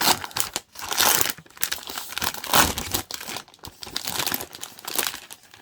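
Protective plastic wrap on a Lenovo Yoga Tab 13 tablet crinkles and crackles loudly and close up in irregular bursts as it is handled and peeled, with no talking.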